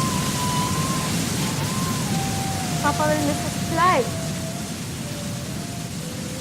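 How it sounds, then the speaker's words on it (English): Steady rain falls as a constant soft hiss behind a person speaking, with a few brief tonal chirps rising over the wash of the downpour. "Oh, it is raining."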